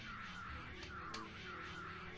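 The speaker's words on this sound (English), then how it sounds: "Birds." Crows cawing in the Tales of Vesperia game, a couple of harsh calls at moderate distance over a low, steady ambient background.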